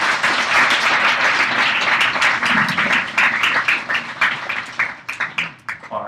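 Sustained audience applause at an evening event, dense and loud clapping that holds steady before thinning out into scattered claps near the end.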